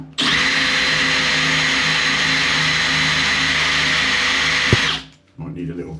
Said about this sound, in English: So what we've got to do now is obviously drill the tiles